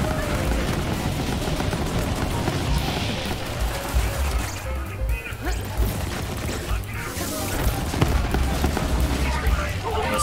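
Explosive rounds fired in Borderlands 3 during infinite-ammo weapon testing: a dense, continuous barrage of blasts and crashing impacts over ten seconds, loud and busy, with a voice talking over parts of it.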